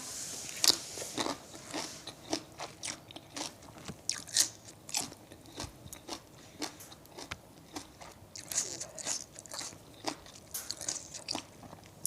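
Close-up crunchy chewing, with repeated crisp bites and crunches in an uneven rhythm and no talking.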